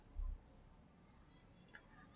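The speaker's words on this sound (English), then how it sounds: "So I select this and then click on next." A computer mouse click selecting Next in a SQL Server import wizard sounds as a single faint, sharp tick near the end, preceded by a soft low thump in quiet room tone.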